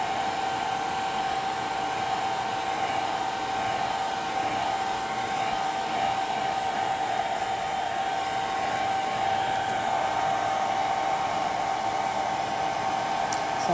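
A hair dryer on its low setting blows over a painting made with wine, a steady, even airy whir with a constant tonal hum, close and continuous with no talking.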